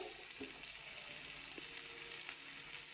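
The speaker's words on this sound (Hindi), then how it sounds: "चलिए इतनी देर में हमारे कबाब फ्राई होते हैं" Shami kababs frying in a pan give off a continuous close sizzle with a couple of faint clicks of utensils, and no one speaks.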